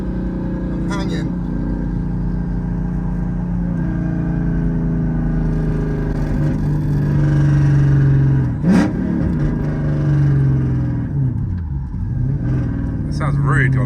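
A V8-swapped Volvo 240 wagon engine drones steadily from inside the car, rising into a deeper revving surge partway through, with people talking over it.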